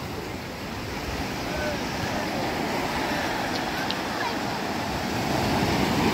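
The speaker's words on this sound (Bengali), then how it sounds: "विशाल विशाल ढेउ है একটা" Big sea waves rolling in at high tide on Digha beach, a steady loud wash of surf with wind noise, continuous and close, swelling slightly toward the end.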